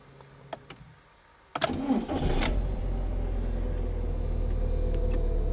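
Volkswagen Polo with an automatic gearbox stuck in Park cranking briefly and then catching, its engine settling into a steady low idle that is close and continuous after a quiet start with faint clicks.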